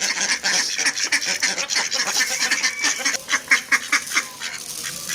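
A crowd of ducks quacking loudly and continuously as they are fed grain, overlapping calls in a busy, noisy chorus nearby.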